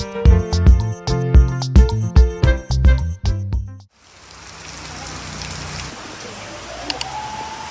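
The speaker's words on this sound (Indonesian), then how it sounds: "Kita nangkring dulu sambil menikmati suasana hujan sambil nunggu agak reda juga." Steady rain falls after about four seconds, a broad even hiss that follows a few seconds of loud rhythmic music, on a rainy day at Kawah Wurung.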